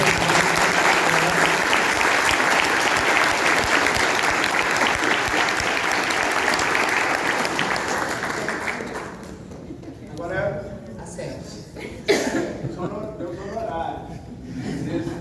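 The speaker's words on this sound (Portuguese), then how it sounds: "Queria puxar uma salva de palmas para essa palestra" An audience at a labour law lecture gives a sustained round of applause that fills the first nine seconds and then dies away, giving way to people talking and laughing nearby.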